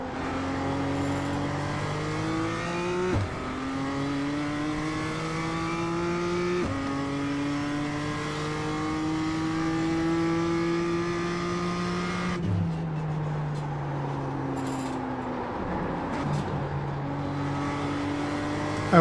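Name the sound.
BMW M2 engine racing at Tsukuba in a racing game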